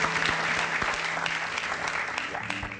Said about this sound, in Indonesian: beri tepukan yang paling hangat untuk Ibu Katarina